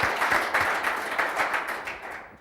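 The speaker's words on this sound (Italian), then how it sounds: "Un applauso anche per Giorgio Furlan, vicepresidente vicario del Comitato Regionale Veneto" An audience at a cycling event applauds an official, with bright, rapid clapping throughout that gradually thins and fades toward the end.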